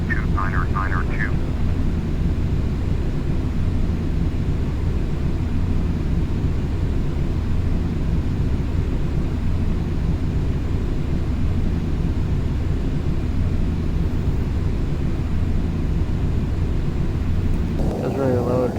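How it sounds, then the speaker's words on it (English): Airliner cabin drone from a flight simulator game, a steady loud low engine rumble of a Delta jet on approach to Tampa, continuous throughout with brief tonal chirps at the start and end. "just a plane flying overhead, cruising around, trying to get vectored in for our landing here"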